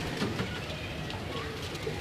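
Salara Teddy pigeons coo softly from a loft, low throaty calls blending into a busy background murmur with faint voices nearby.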